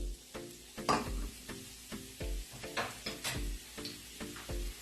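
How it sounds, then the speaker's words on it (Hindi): Sliced onions frying in hot oil for bhuna gosht, a soft steady sizzle under repeated scraping and stirring strokes of a spoon against the pan, close and moderately loud, with no one talking. "इसको मैं लाइट गोल्डन फ्राई कर रही हूँ।"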